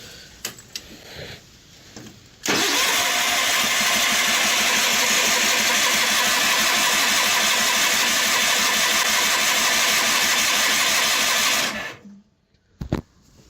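A John Deere 210 lawn tractor with a faulty carburetor and a fussy choke cold starts with a sudden catch and then runs at a loud, steady engine roar for about nine seconds before cutting off abruptly.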